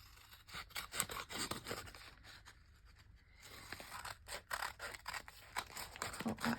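Scissors snip and trim around a handmade tag cut from mixed media paper, giving a run of close, crisp cuts and papery rasps with a short lull in the middle before the cutting resumes.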